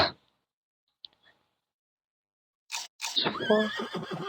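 Horse neighing in a video game, a short whinny with a brief snort near the end of the clip after long near-silence, close and moderately loud.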